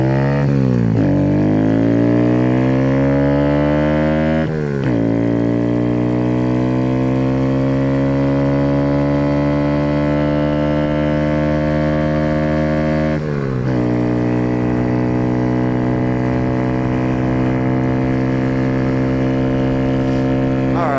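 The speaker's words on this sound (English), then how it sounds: "Now we're at wide open throttle." Kawasaki Z125 motorcycle fitted with an Empire Industries exhaust running at wide open throttle, a loud continuous engine drone that climbs steadily in pitch through each gear, with two brief dips at the shifts.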